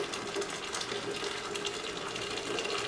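Boiled water poured into a jug for Oklahoma-style sweet tea, a steady continuous splashing gush that runs unbroken throughout at moderate level.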